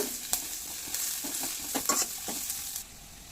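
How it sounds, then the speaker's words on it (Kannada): Sliced onions frying in a pan for Mangalore chicken pulimunchi, a steady close sizzle broken by scraping stirs and clinks of a spoon against the pan, no voices. "ಉಂದಿತ್ತ ನೀರುಳ್ಳಿ ಫ್ರೈ ಆವಾಡು ಜಾಸ್ತಿ ದಲ್ಲ ಫ್ರೈ ಆವಡ್ ಪಂದಿಜ್ಜಿ ಕಲರ್ ಚೇಂಜ್ ಆವಾಡು"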